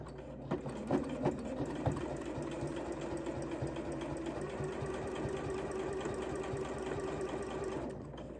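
Sewing machine running steadily as it stitches the center back seam of a New Look 6585 coat with a 5/8 inch allowance, a continuous close mechanical whir with a few bumps of handling at the start.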